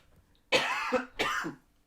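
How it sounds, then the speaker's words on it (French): Two harsh coughs in quick succession, close and fairly loud, with a brief pause between them and quiet before and after. "Excusez-moi pour cette toux insupportable"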